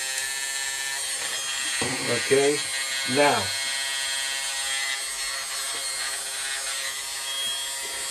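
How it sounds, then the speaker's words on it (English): A power sander runs steadily on the edge of a wooden piece, giving a continuous buzzing whine throughout, while someone speaks briefly partway through. "I'm going to take this and I'm going to start sanding it. I don't want to go too fast, so I don't want it to grind that quickly"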